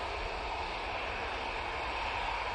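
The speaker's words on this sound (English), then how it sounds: "we've got the EasyJet coming on right in front of us" An EasyJet airliner approaches at Manchester Airport: a steady, broad jet roar of moderate loudness holds unbroken throughout.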